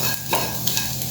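Prawn curry mixture with haldi powder being stirred in a hot pan, soft scraping strokes over a steady sizzle, with a couple of sharper utensil scrapes close by.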